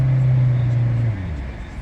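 A 2019 Suzuki Swift GL Navigator engine holds a steady low hum for about a second, then its pitch drops away as the rev settles back toward idle.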